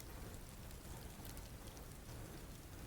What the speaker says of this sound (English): It's just rain sounds, or technically it's snow sounds.